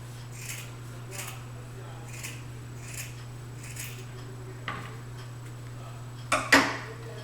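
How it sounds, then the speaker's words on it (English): Scissors snip a small V notch into the raw edge of folded fabric, giving a series of about five soft, evenly spaced cuts, then a couple of sharper, louder snips near the end over a faint steady hum. "on the raw edge here, I'm going to cut out a little V."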